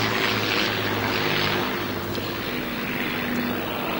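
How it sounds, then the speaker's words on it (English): Engine of a Supermarine Spitfire, the Second World War fighter, as a continuous propeller drone with a steady low throb and a broad rushing hiss that swells slightly, then eases. "The Spitfire, one of the great fighters of the Second World War."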